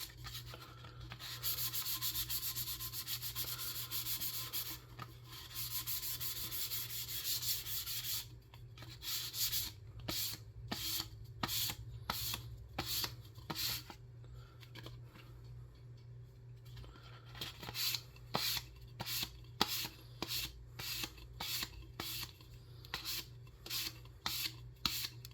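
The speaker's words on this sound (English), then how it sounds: "this is how it's supposed to sand right here" Sandpaper rubs across painted finish on an Estes Hi-Flier XL model rocket, first in a continuous scrubbing stretch, then in quick rhythmic strokes, close and fairly quiet.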